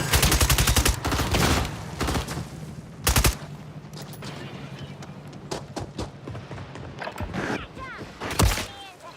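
Gunfire in the video game Warzone, with rapid automatic bursts and single sharp shots in close succession, loud and punchy, and game sound effects between volleys.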